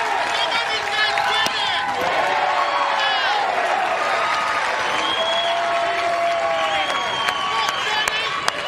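Indiana baseball crowd on its feet at the ballpark during the 2012 Big Ten Tournament, with sustained applause and cheering filling the background while a commentator talks over it.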